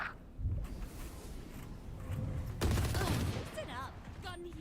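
Rapid bursts of gunfire from a first-person shooter video game, loud and sustained across the clip, with gameplay effects layered in and a brief whistling sweep near the end.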